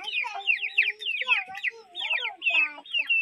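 Several chickens cluck and call together at close range while pecking at freshly scattered morning feed, their overlapping rapid notes forming a busy, continuous chatter with no talk.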